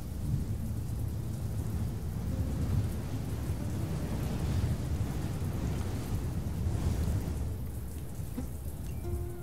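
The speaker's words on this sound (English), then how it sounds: "rain in a heat wave is so lovely" Steady rain with rolling thunder inside the video game Sheltered 2, a dense continuous wash of downpour and low rumbles lasting throughout, with no talking.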